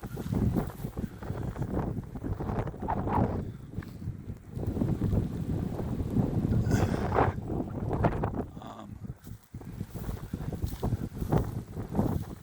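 Gusty wind in wet, cold weather buffets the microphone steadily, a dense low roar with rising and falling surges and no talking.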